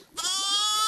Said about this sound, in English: A sheep? You've made a sheep?